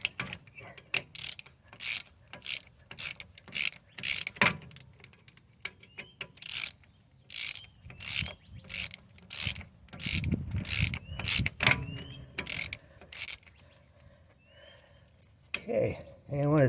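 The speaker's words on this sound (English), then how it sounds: "Just remove the bolt" A hand ratchet clicks in quick repeated bursts while loosening a brake caliper bolt on a Mercedes, loud and close with short pauses between strokes; a person breathes or sighs briefly near the end.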